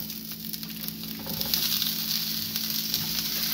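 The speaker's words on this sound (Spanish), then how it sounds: "le pusimos un poco de aceite, está un poquito caliente al sartén y vamos a tirarle la cebolla" Chopped onion hitting hot oil in a frying pan, a steady close sizzle that swells slightly and holds without talk.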